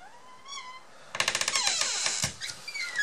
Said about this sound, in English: Sometimes you got a super annoying squealy hinge like this.